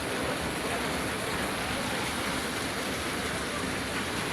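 Heavy rain, with hailstones reported, pours down in Parbatipur as a dense, steady hiss that fills the whole stretch without a break.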